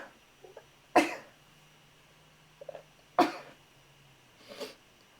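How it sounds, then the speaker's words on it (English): Three short, sharp bursts, a sneeze followed by coughs, spaced a couple of seconds apart, close by, with quiet pauses between. "I'm going to sneeze."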